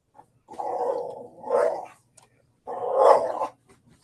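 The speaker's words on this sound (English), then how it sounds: "we hear a dog and everything" A dog growls and grumbles in two drawn-out, rising vocal bursts, close and fairly loud, with a short quiet gap between them.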